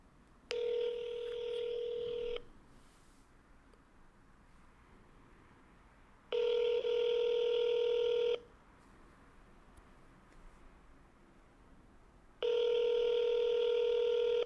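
Tones of a telephone number being dialed, heard as three separate bursts of steady electronic beeping, each about two seconds long and several seconds apart, clear and close over quiet background with no talk.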